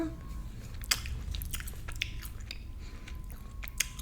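Someone chews a Jelly Belly BeanBoozled jelly bean close to the mic in a mukbang eating show, with soft, wet, steady mastication and a couple of small sharp bites or clicks.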